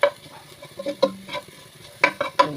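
A spoon stirs pepper powder into coconut oil in a pan for a pork fry, giving irregular scrapes and clinks against the metal with a faint sizzle between strokes.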